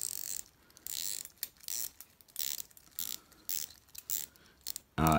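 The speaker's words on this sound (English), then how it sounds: "This bezel is hard to turn." The bezel of an Invicta Pro Diver gold watch is turned in close, crisp ratcheting clicks, coming in uneven quick bursts with short pauses between turns.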